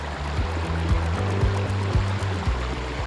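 Water flows and trickles steadily nearby in a continuous rushing wash along a misty forest mountain trail, with a low rumbling hum running underneath and no voices.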